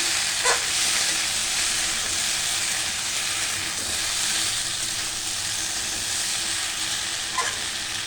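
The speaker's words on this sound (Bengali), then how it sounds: "আমি একটুখানি এটাকে নেড়ে নিচ্ছি।" Vegetables sizzle in a pan while being stirred for a summer recipe, with a loud continuous frying hiss and occasional scrape-like bursts near the start and end.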